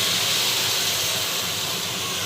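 Water added to a hot pot of pork cooking with elephant apple sends up a loud, steady broadband hiss that fills the whole moment, close and continuous with no talk over it.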